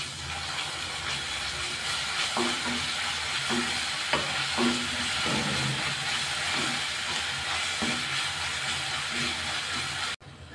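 Onion being stirred in a frying pan with ginger and garlic paste for a dhaba-style chana dal tadka, giving a steady loud sizzle with repeated scraping strokes of the spoon at a regular rhythm, no voices.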